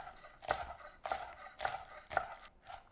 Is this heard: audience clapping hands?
no